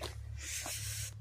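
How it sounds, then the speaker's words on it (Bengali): Water sprays and splashes out at the far end of a field irrigation line, giving a brief hissing gush over steady background noise. "এই সাইডে কিন্তু জল পড়তে লেগেছে,"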